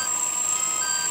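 Low-voltage emergency beep from a Flying3D X6 drone under a voltage drop test: a steady, high-pitched electronic tone held continuously, close and clear without speech.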